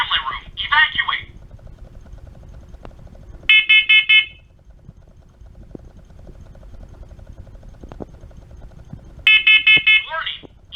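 A home smoke detector sounds a loud repeating electronic beep pattern in short bursts at the start, middle and end, with an automated voice warning about smoke in the family room between the bursts.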